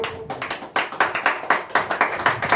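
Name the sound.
audience clapping hands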